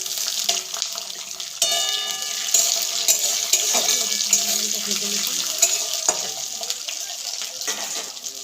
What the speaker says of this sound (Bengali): এবার আমি বাদাম ভাজবো।